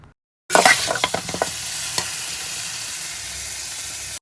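After a brief silence, thick yogurt is poured into chicken gravy for biryani and stirred, sudden loud sizzling with quick scraping strokes early on, settling into a steady close hiss.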